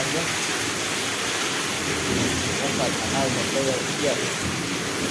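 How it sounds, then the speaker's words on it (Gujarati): Steady monsoon rain pours over a village, a dense continuous hiss with low rumbling thunder beneath it and faint voices in the background. "વરસાદ કંઈક આ રીતનો છે"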